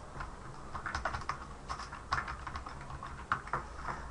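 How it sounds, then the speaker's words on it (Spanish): Rapid typing on a computer keyboard, with dense, irregular key clicks and a few firmer presses, close and fairly quiet, no voices. "Se recuerden que este espacio lo dejan presionando Enter."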